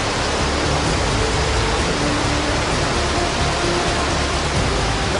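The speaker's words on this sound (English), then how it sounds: "there's a load of rapids just down there" River rapids rush inside Son Doong cave in Vietnam, a loud, steady broadband roar of churning water that fills the whole stretch without a break.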